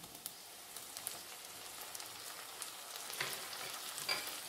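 Cinnamon pieces and tomatoes fry in a pan for kaleji masala, a faint, steady crackling sizzle with scattered small pops that grows slightly busier toward the end.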